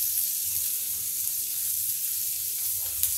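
Leftover vegetables tumble into a pan of frying garlic for a Marathi-style roti pizza topping, kicking off a steady, close hiss of sizzling that holds evenly throughout with no talking.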